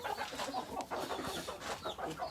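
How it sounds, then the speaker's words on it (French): Amid squabbling farmyard fowl, an annoyed male duck joins a busy mix of clucks and harsh calls, close and continuous with overlapping bird voices. "Voilà le mâle canard qui est pas très content."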